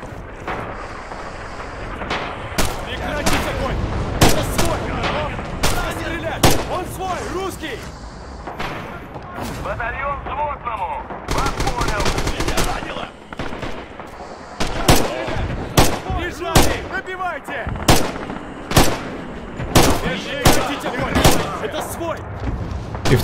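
Repeated loud gunshots and heavy booms from rifles and artillery in the World War II shooter Red Orchestra 2, sharp irregular blasts through a steady battle din with a player talking over them.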